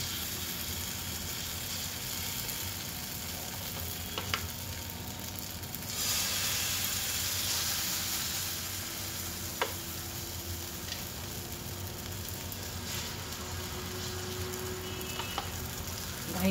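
Pancake batter sizzles on a hot oil-greased pan, a steady frying hiss with a louder surge partway through and a few small ticks and pops.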